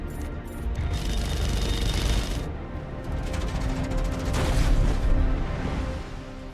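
Gunfire in a scene from The Expanse TV series: a dense, continuous roar of shots and mechanical blasts, loud and sustained, with bursts swelling and easing over several seconds.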